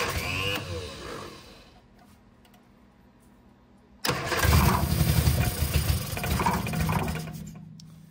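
An Innocenti S Spider engine, with its firing order just corrected, cranks and then catches abruptly, bursting into a loud, rough, busy running note close by after a quieter spell.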